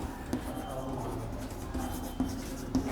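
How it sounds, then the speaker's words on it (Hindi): Pen scratching on paper as sentences are handwritten, a run of soft, close scraping strokes with a few sharper taps; no talk. "देखो मैं कुछ सेंटेंस लिख रहा हूँ"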